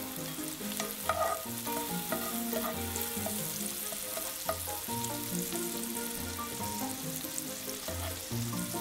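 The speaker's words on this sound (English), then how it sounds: "it looks like my butter's melted, so I toss my mushrooms into the pan" Mushrooms frying in melted butter in a pan for a quick breakfast, crackling and sizzling steadily up close, with occasional soft stirring knocks and no voices.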